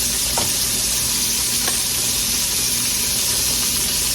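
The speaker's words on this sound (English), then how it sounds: "we are keeping our eye on our pork chops. Got them cooking a little slow." Pork chops fry slowly in a pan on the stove, giving off a steady, even sizzle with a few faint pops and crackles.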